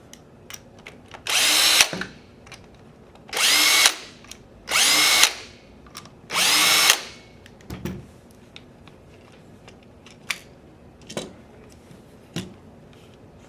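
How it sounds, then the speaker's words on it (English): Power driver whirring as screws come out of the grip on an X7 Phenom paintball marker, four loud bursts of about a second each, separated by quieter clicks and handling noises. "you're going to use a Phillips head screwdriver to remove the rest of the screws that"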